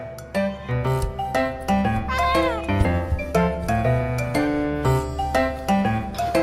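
A cat meows in a string of repeated, fairly loud calls over a steady musical backing, with a few short clinks in between.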